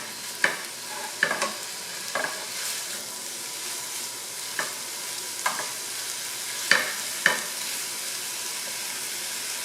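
Crumbled sausage removed from its casing browns in a pan for a sausage and kale soup, a steady close sizzle broken by several sharp scrapes and stirs at irregular intervals, with no talking.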